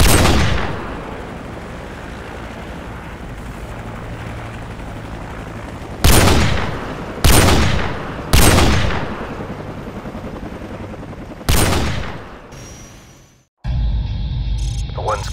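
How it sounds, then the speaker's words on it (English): Gunfire from Call of Duty 4: Modern Warfare during a ghillie-suit sniper mission: four sharp, loud rifle shots ring out a second or so apart, each with a long decaying echo, over quiet ambience that ends in an abrupt cut. "Keep firing!"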